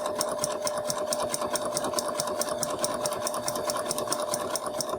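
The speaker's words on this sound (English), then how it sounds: "the machine will automatically bar tack and sew up the left side" A sewing machine runs steadily at speed while automatically bar tacking and stitching a seam, its needle ticking in a fast even rhythm over a constant motor hum, close and fairly loud.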